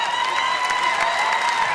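A stadium crowd applauds and cheers steadily at the Québec Open beach volleyball final, a dense, continuous wash of clapping from many hands at mid distance with no break in the sound.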